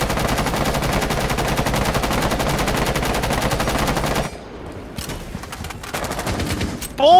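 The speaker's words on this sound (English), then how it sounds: "I shot Frost." Automatic gunfire in Rainbow Six Siege during a House hostage team deathmatch, a sustained rapid burst for about four seconds, then scattered shots and clatter.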